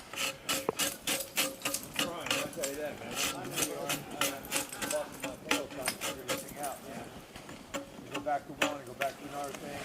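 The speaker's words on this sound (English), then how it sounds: "that chisel just carves through that ice" A chisel carving through a block of ice with repeated scraping, rasping strokes and sharp knocks, close and fairly loud. Voices talk over the carving.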